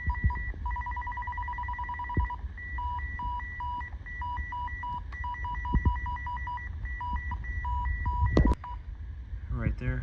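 Call tone from a Midland XT511 radio: a series of short electronic beeps in a steady stuttering pattern, loud and close, then a brief rising chirp near the end, with faint handling noise underneath.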